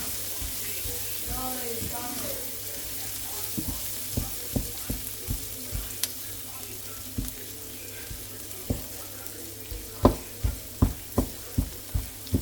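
Creamy onion sauce with black pepper sizzling in a pan, a steady frying hiss under a voice early on, then a series of sharp tapping or scraping hits that grow louder and more regular toward the end.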